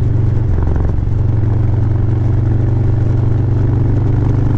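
A Harley-Davidson touring motorcycle engine drones steadily and loudly with a deep, pulsing rumble while the bike rides through a corner, with no voices.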